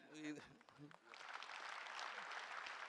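An audience at a felicitation for tennis player Leander Paes at the Bengaluru Open 2020 breaks into applause right after someone speaks, a steady wash of clapping filling the rest of the moment.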